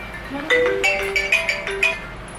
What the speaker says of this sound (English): Oops, sorry, I got a phone call.